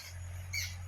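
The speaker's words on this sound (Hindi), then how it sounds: "चिड़ियों की आवाज़।" Small birds chirp briefly in the middle of a quiet winter morning in village fields, a short bright call rising over a low steady hum.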